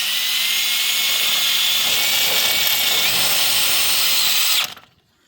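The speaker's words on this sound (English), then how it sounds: "And I'm going to put 2 tech screws in it." A power drill drives tech screws into the frame of a 20 x 20 high tunnel, a loud, steady whine that holds for about four and a half seconds and then cuts off sharply.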